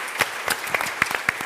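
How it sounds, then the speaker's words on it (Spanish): Applause from a live audience at a talk on being a woman and being fat in sports, a few people clapping in quick uneven bursts, fairly close, with no talk over it. "Un aplauso fuerte."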